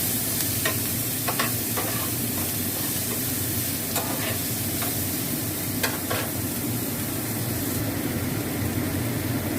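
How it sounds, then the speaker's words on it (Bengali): Chopped tomato, green chilli, onion and coriander leaves fry in butter and oil in a pan, with a steady sizzle running throughout and scattered clicks and scrapes from stirring, and no voices. "এবার আমি এতে এই টমেটো কুচি, লঙ্কা কুচো আর পেঁয়াজ কুচি, ধনেপাতা কুচি, এগুলো আমি এর সঙ্গে একটুখানি ভেজে নেবো হালকা করে"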